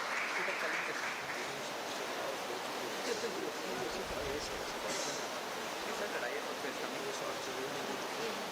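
Broad, steady applause fills a hall at the MIEF Civil Quest 1.0 event as a named participant is called forward, a continuous wash of many hands with voices mixed in throughout.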